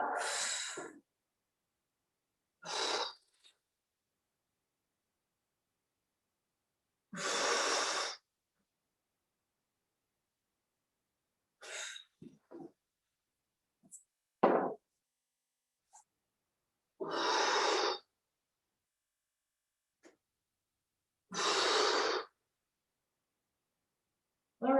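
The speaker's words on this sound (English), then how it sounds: "When you're down, 5 exhales." Five or so strong exhales during a yoga hip opener stretch, each a breathy whoosh spaced several seconds apart with near-silence between, plus a few faint shorter puffs.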